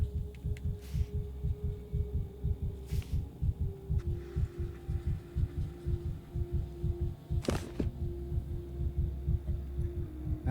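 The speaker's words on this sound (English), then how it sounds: "Fast heartbeat." A fast, regular heartbeat thumps steadily and close in the Pathologic 3 video game, low and throbbing over a constant hum, with an occasional faint click.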